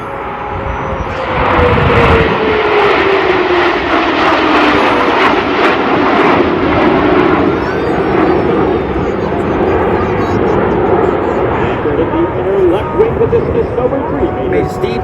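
Snowbirds jets fly the Diamond bottom side pass at the Gatineau-Ottawa airshow, a loud jet roar sweeping in close with a falling whine as they pass and fade, while a voice talks over it.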